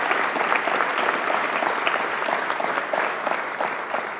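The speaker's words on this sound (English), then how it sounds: "please give Michael a round of applause" An audience claps for a partner at a speech by Ontario's economic development minister, dense, even applause that holds steady and close throughout without pause.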